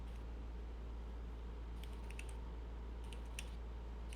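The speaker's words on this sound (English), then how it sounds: "I just hear Rez typing" Someone types on a computer keyboard some distance from the microphone, with faint, scattered bursts of key clicks over a low steady hum and no talking.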